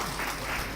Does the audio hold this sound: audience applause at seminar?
yes